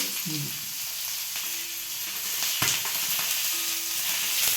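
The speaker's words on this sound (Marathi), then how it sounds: "आता अशी लसूण असा भाजून घ्यायचा" Garlic roasting in a pan in a village kitchen, with a steady close sizzle and crackle, stirring scrapes, and a sharp knock partway through.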